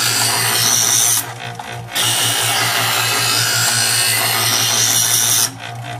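A Chef'sChoice 120 Diamond Hone EdgeSelect electric knife sharpener runs with a steady motor hum and a gritty grinding buzz as a knife blade is drawn through it. Two short passes break the sound, one near the start and one near the end.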